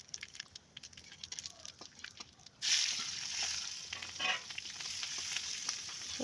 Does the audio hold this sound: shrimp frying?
yes